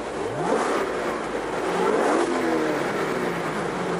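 A Nissan car engine with stock exhaust revs and roars with a rising and falling growl, steady and fairly loud, as if heard from inside or close by.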